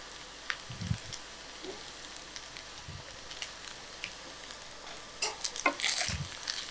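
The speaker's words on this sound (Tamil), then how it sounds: "அப்படியே லோ ஃப்ளேமில் அப்படியே நல்லா கிண்டி விட்டுருங்க" Cooked rice stirred with carrot, cucumber and capsicum in a pan on a low flame: a soft, steady sizzle, with several low scraping stirs and brief clinks of a utensil against the pan, faint and close.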